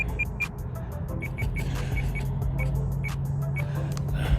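Rlaarlo DSK-8 1/8 scale RC buggy, no fan on the motor, running at full throttle: a steady low whine and hum with a continuous drone, overlaid by a regular series of high chirping beeps, moderately faint.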